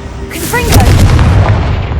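A Confringo blasting spell explodes in Hogwarts Legacy, a single loud booming burst with a whooshing, sparkling tail that rumbles on and fades over about two seconds.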